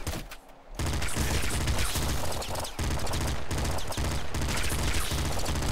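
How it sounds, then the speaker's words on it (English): Rapid, continuous gunfire from the pop gun in the video game Nuclear Throne, a loud dense stream of shots with a brief quiet gap at the start and no talking. "It actually fires really fast and it's quite funny."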